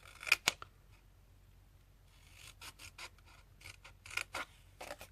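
Scissors snipping through paper for a folded paper box, quiet and close, a few separate cuts at first and then a quicker run of short rasping snips.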